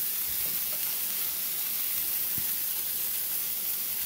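Bread and bacon sizzle on a very hot griddle, a steady, close frying hiss with faint crackles and no talk.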